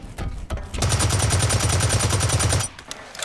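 Rapid automatic AK470 rifle fire in the Blacklight Retribution shooter on PS4, a sustained loud burst of evenly spaced shots lasting about two seconds after a few brief opening pops.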